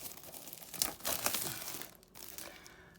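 Glued HMV exclusive sticker being peeled off a Blu-ray steelbook, a faint close crinkling and tearing rasp in a few short bursts with no talk.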